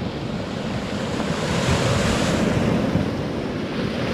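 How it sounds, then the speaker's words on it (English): Ocean waves break continuously on a shore, a broad roaring wash of surf with wind buffeting the microphone, loud and close throughout. "Come on, some of these waves, wow."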